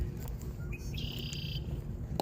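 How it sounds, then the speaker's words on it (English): Birds chirp and sing outdoors beside a river during a fishing trip, with brief high tweets over a steady, close rush of flowing water. "The nature sounds of birds, the river, and the ice cream truck."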